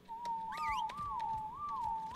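Whistling in the video game ARK Survival Evolved, a clear sliding whistled tone that rises and falls in a steady wavering line, with faint clicks and game ambience underneath.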